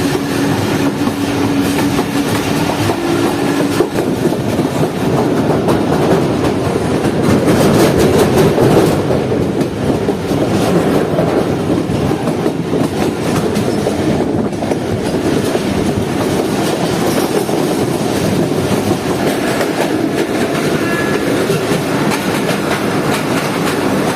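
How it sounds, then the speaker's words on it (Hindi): Jaffer Express running on rails on the way into Peshawar City station, a loud steady rumble of wheels and carriages with continuous clatter throughout, no voices. "ट्रेन अब हमारी पहुंच रही है पेशावर सिटी रेलवे स्टेशन पर।"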